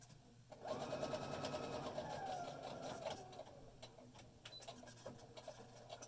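A sewing machine runs steadily for several seconds stitching a fabric facemask, a close, even whirring hum that starts abruptly, then slows and stops, followed by faint handling clicks.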